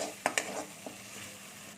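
Okra frying in a pan with ground mustard paste: a faint, low sizzle with two quick spoon taps near the start and a softer knock shortly after.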